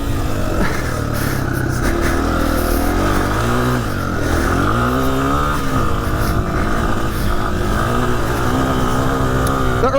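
A Honda CRF300F trail bike is ridden through flat corners on a trail. Its single engine hums close and loud, revving and dipping as it slows and accelerates through each turn.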